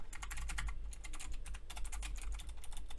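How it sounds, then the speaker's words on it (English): Steady, fast typing on a computer keyboard, dense clicking keystrokes in quick irregular runs, close and fairly quiet with a low background hum. "I'm spelling wrong because I'm not looking at the keyboard"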